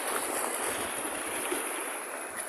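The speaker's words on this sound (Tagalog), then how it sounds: "Lakas ang alon." Strong sea waves wash against a rocky shore during shore fishing in the Philippines, a steady broad rushing hiss of surf up close with a faint crash near the end.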